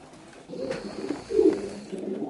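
A 14-year-old homing racing pigeon coos at its nest, giving several soft, low, throaty coos in a slow rhythm, close by and fairly quiet.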